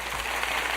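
Applause at a live on-air talk show, a dense, steady wash of clapping from a studio audience, brief and continuous with no voices on top.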